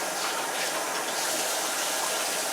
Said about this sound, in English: when there's about 10 seconds left on the developing time, it's time to pour it out